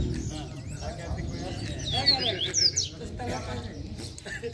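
A caged coleiro, the double-collared seedeater, gives short high chirping and warbling phrases close by, faint and broken, with a person talking over much of it.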